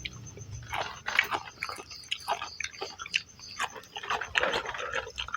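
Someone eating dinner close to the microphone, with irregular crunchy bites and moist chewing sounds recurring throughout, and no talking.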